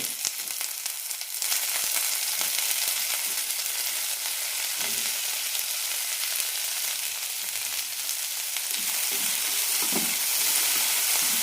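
Chopped tomatoes go into onions frying in a pan, followed by a continuous close hiss and sizzle for several seconds, with occasional stirring knocks and no voices.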